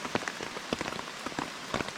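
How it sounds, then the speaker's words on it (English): Rain falls on a tarp shelter at night while camping, a dense, steady patter of drops with sharper individual taps scattered through it, close and moderately loud, with no talk. "it started raining"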